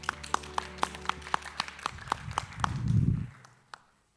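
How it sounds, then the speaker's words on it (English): A small group clapping at a healthcare careers conference, evenly spaced claps that fade out, followed by a brief low rumble of movement and one last isolated clap. "Also a round of applause for Lindsay."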